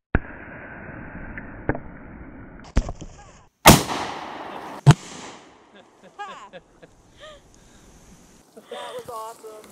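Desert Eagle .41 Magnum pistol fired outdoors, two or three very loud, sharp shots with ringing decay spaced a second or so apart, amid quieter handling clicks and people talking between them.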